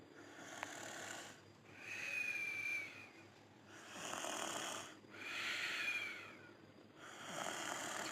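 A small child snores while asleep, each breath rising into a raspy, whistling snore; five slow, evenly spaced snores at moderate closeness with quiet gaps between.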